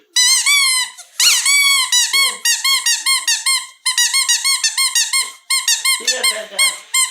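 A small dog plays with a squeaky toy ball, which gives rapid bursts of high, piercing squeaks in irregular clusters with short pauses between. Loud and close, with faint background noise near the end.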